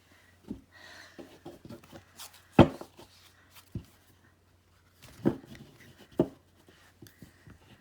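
An oversized tarot deck is shuffled by side riffle, giving quiet, scattered bursts of papery flicks and taps with short handling noises between them.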